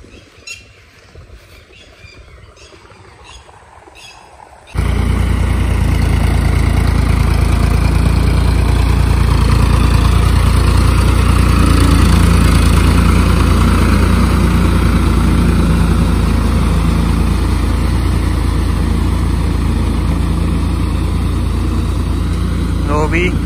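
A tube well water pump motor starts up abruptly for a paddy field, jumping from quiet outdoor ambience with birds to a loud, steady, low engine drone that runs on unchanged, close by, with talk briefly underneath.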